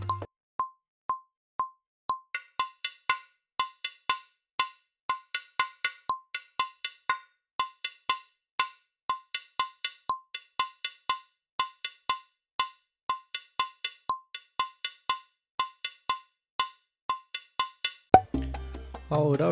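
Salsa timbal bell played in a 3-2 clave pattern: crisp, ringing metallic strikes in a steady syncopated groove, heard alone and close, ending with a brief rumble of noise.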